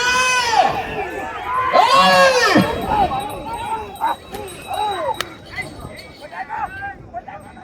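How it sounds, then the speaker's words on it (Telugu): Crowd at a village bullock race in Avulampalle, Anantapur district, shrill rising whistles and shouts and cheers, loud and close, with people yelling over one another. "గట్టిగా విజిల్లు కేకలు"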